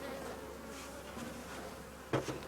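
Honeybees buzzing around a hive fitted with entrance reducers, a faint steady insect drone close by, interrupted near the end by a brief knock.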